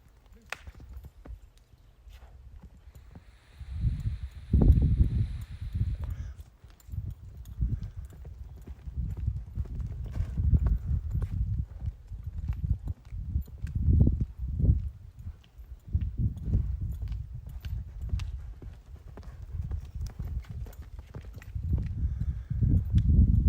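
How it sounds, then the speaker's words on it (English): Horse hooves thud in a steady rolling three-beat rhythm on soft ground, continuing at a lope for the whole stretch without talk. "usually I don't really like to lope him around that much."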